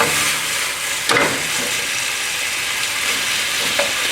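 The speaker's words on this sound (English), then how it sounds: "Let the beef cook through." Beef sizzles steadily in a hot pan as a stir-fry with ginger, garlic and a little soy sauce, a loud continuous frying hiss with a brief stir partway through and no talking.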